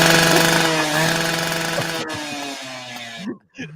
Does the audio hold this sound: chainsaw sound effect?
yes